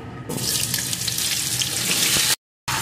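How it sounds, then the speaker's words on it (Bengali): Potato pieces with a little salt frying in hot oil make a loud, close, steady crackling sizzle that begins abruptly, is briefly cut off by a short silence and then resumes. "এখন আলুটা ভালো করে ভেজে নেব।"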